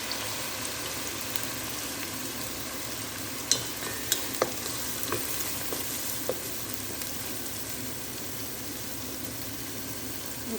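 Oil heating in a cooking pan gives a steady, fairly loud hiss of sizzling that runs without a break, with a few sharp pops and crackles in the middle.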